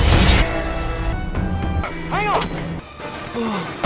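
A film explosion roars in a monster action scene, a dense, loud rumbling blast with thuds and crashing debris, followed by swooping shrieks over continuous heavy background noise.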